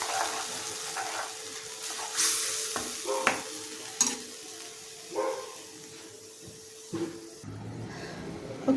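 Ground onion masala paste for egg curry sizzles gently in oil, and scattered spoon knocks and scrapes come at irregular intervals over the quiet frying.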